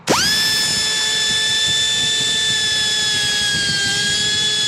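A small grinder sharpening a chainsaw chain spins up sharply and holds a steady high-pitched whine, close and loud, with a slight dip in pitch near the end.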